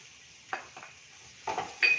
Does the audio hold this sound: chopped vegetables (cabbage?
yes